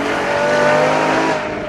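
A Ferrari LaFerrari hypercar with a 950bhp engine driving hard, a loud, continuous high-pitched engine roar with a brief tire squeal, close and without talk.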